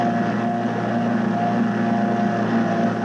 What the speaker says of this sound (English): rent a motorboat and drive through the swamp as fast as a 10-horsepower Evinrude will take you